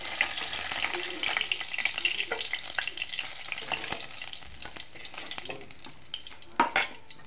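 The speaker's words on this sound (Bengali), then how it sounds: "বাকি মাছগুলি এভাবে ভেজে নেব।" Poa fish pieces fry in hot oil for a curry-leaf tempered fish curry, a close steady crackling sizzle broken by frequent stirring scrapes and a couple of louder knocks near the end.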